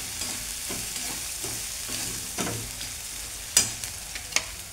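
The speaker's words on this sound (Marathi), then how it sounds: "आलं लसूण जिरे पेस्ट, मिरची चांगली परतून घ्यायची" Ginger-garlic-cumin paste and chillies sauté in a pan. A continuous sizzle is punctuated by irregular spatula scrapes and taps, with a couple of sharper clinks near the end.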